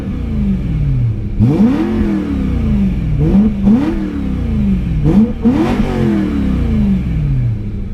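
Repeated throttle blips from a manual BMW E92 coupe fitted with an exhaust cutout, each rev rising sharply and falling away in three or four aggressive bursts over a steady idle rumble, close and loud with no talking.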